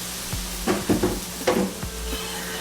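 A cut of salmon sizzling in a hot skillet, with a few soft stirring or shifting noises over a steady low frying hiss, fairly quiet and without voices.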